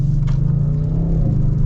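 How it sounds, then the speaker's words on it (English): A 2022 Audi RS7 in its RS1 drive mode pulls away hard from a start, its engine a loud, steady low rumble that holds close and constant with a slight rise in pitch. "So, we are setting off in the RS7, and I just put it in the RS1 mode"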